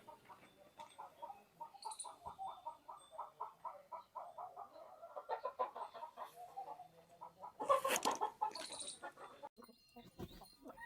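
Free-range village chickens cluck on a poultry farm in a soft, busy chorus of repeated clucks, with a louder squawk rising midway before settling again.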